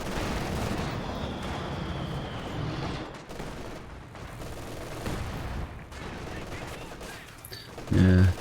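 Machine gun fire in a video game match, sustained bursts and rattling shots mixed with other battlefield gunfire, fairly loud and continuous, with a louder burst near the end.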